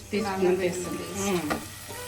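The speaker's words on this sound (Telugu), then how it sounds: "ఇప్పుడైతే నేను అల్లం వెల్లుల్లి పేస్ట్ 1 టీ స్పూన్ అంత వేస్తుంది" Ginger-garlic paste sizzles in hot oil in a pan while prawns with sorrel leaves are cooked, the frying heard close under a woman's continuous speech.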